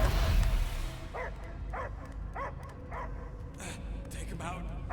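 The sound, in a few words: dog barking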